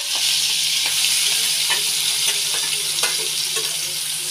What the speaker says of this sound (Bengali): এবার মা এদিকে চিংড়ি ভাজছে।